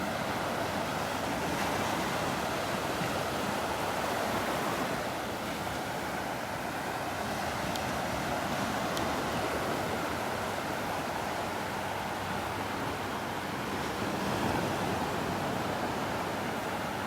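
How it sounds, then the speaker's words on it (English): Surf rolls in continuously along a beach at Delnor-Wiggins, a soft, broad wash of breaking waves with light wind noise on the microphone and no talking. "Listen to those beautiful waves."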